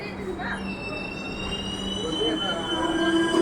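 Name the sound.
express train passing through station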